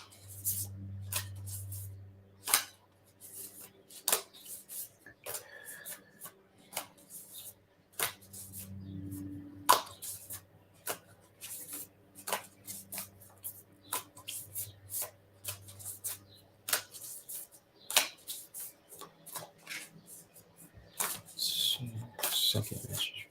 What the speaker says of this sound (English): Just going to shuffle this other deck for you